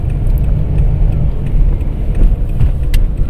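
Steady low rumble of a car moving along a road, heard from inside or close by, with continuous engine and tyre noise and no talking.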